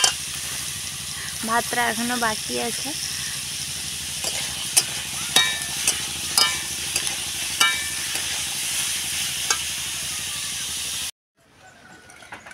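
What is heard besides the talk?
kohlrabi frying in a pan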